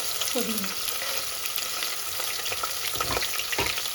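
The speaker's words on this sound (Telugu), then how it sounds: "ఇవి ఫ్రై అయిపోయినాయి కదా, ఇప్పుడు ఆనియన్ వేసుకుందాం" Onions are tipped into hot oil in a pan while tempering for a goat head curry, giving a continuous close frying sizzle with a few soft stirring knocks toward the end.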